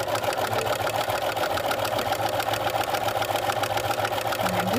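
A sewing machine runs steadily, stitching layered fabric for a hot pad along a 5/8 seam. Its rapid, even mechanical chatter carries on without pause, close and fairly quiet.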